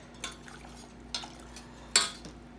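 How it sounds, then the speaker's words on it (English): A whisk clinks three times against a pot as gravy thickener is stirred in for a crock pot roast, the sharp scrapes spaced apart over a faint low hum. "whisk it while you do it to avoid"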